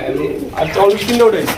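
Pigeons coo at a seller's loft stocked with local and foreign breeds, soft rolling calls rising mid-clip, with people talking nearby throughout.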